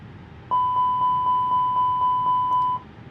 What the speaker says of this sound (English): We'll do a test of the fire alarm on the APU